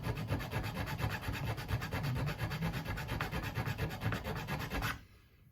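Metal file rasping across a protruding metal fret end in the nut slot of a Squier Bullet guitar, a close, steady run of quick back-and-forth strokes for about five seconds that stops abruptly.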